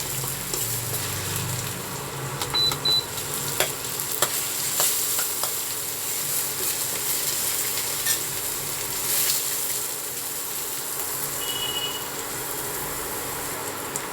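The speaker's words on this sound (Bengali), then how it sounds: "রসুন কুচিটা একটু ভাজা ভাজা করে নেব।" Chopped garlic fries in a pan for a dry potato dish, giving a continuous loud sizzle with occasional clicks and scrapes of stirring, and no voices.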